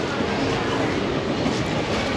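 A train pulls out of Pandupura railway station in the rain, its steady rumbling roll close and continuous throughout.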